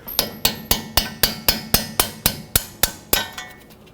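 Twelve sharp, evenly spaced hammer blows knock through plastic to free a front ABS sensor on a 2009-2014 Honda Fit, each strike close and loud with a short ringing decay.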